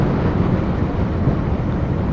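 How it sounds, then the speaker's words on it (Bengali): Steady rain falls at a highway toll plaza with a motorcycle lane, a continuous broadband hiss with low rumble and no talking. "এখানে এসে একটু বৃষ্টির দেখা পাইলাম হাইওয়ে টোলের এখানে।"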